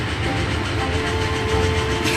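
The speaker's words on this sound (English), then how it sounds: "Hello, steam train. Hello, electric train." Steady loud rumble of a train rolling past in a children's cartoon, a continuous rail drone with faint rhythmic clatter, no voices.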